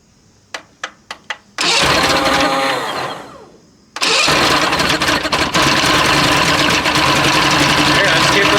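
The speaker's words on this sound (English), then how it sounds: "I think we got a running motor here" A free two-stroke outboard boat motor is pulled over with a few sharp cranks, catches and runs loudly, dips for a moment, then roars back and keeps running steadily close by.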